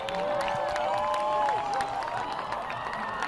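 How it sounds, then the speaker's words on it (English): A crowd in Medinaceli, Spain, claps and cheers continuously as a total solar eclipse reaches totality, with dense applause, whoops and shouted voices blending into a steady, loud roar throughout. "A crowd in Medina Celi, Spain claps and cheers as they watch the solar eclipse reach totality"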